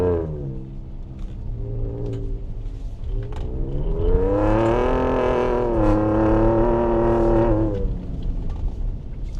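A Ford Ranger Raptor truck revs hard off-road with traction control off, its engine note rising and holding high through the middle before falling back, loud and close with no talking.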